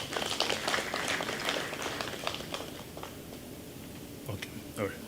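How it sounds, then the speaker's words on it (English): Audience applause for a panel at an economic forum in Ghana, a dense wash of many hands clapping that fades gradually over about five seconds, heard alone without talk. "a round of applause for my panelists"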